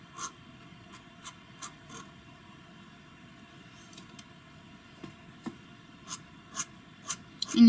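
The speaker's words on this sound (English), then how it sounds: "And you hear how scratchy that is? That's normal. That's dip pens." A dip pen scratches across paper while inking, with short, quiet, crisp strokes coming in irregular bursts that grow a little louder toward the end.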